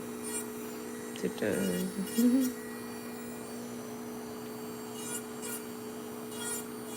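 A nail drill fitted with a coarse bit runs with a steady, faint motor hum throughout, broken by a brief burst of rasping and rubbing as it files down nails.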